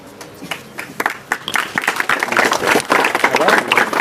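An audience applauds at a student award ceremony, starting as scattered claps and building into sustained, full clapping from a crowd.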